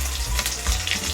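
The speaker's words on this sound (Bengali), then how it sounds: "সবগুলো মাছকে আমি একইভাবে ভেজে নেব।" Fish pieces fry in hot oil in a pan, giving a brief, close, bubbling sizzle with a wet, splashy edge and no one talking.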